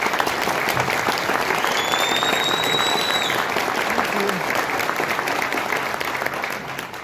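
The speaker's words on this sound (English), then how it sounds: "I think you owe him an applause" Applause from a debate audience honoring a former governor: dense, sustained clapping from a crowd that stays loud throughout and eases slightly at the end, with a faint whistle-like tone and some voices mixed in.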